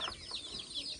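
Chickens just let out of their coop give a few faint, quick clucks and short chirpy calls, heard briefly at a distance.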